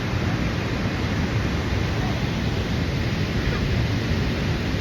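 Loud, close rush of a waterfall, a constant dense wash of crashing water that holds evenly throughout with nothing else rising above it.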